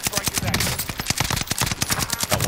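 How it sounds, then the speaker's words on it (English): Rapid automatic enemy gunfire from a first-person shooter video game, loud dense bursts of shots in a fast steady rhythm filling the whole moment, with a voice faintly under it. "he's shooting at me, shooting at me"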